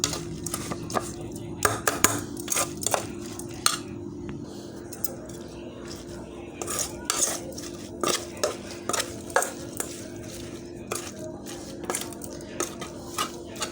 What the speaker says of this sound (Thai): เนี่ยเอาช้อนนวดเอา บีบให้เข้ากัน